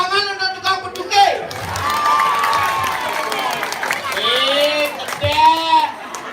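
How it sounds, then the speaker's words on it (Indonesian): Crowd at a live Balinese Calonarang temple performance claps and cheers, the applause mixed with loud voices and talk over it. "Tepuk tangan untuk tukang peduke."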